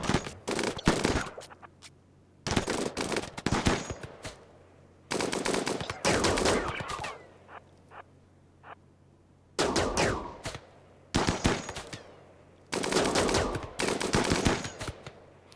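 Bursts of automatic gunfire from a battle in the video game Rimworld, several rapid volleys of loud shots separated by short pauses, with a low steady hum underneath.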